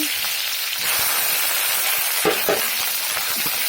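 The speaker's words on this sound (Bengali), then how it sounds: "এখন এগুলো সুন্দরভাবে ভেজে নিব।" Onion, garlic, ginger and green chili fry in oil over a wood fire, with a dense continuous sizzle and a few spatula scrapes and knocks close by.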